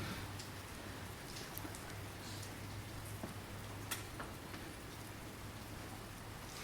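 Steady rain pattering outdoors on a spring day, a dense even hiss with scattered drop ticks, alone and without voices.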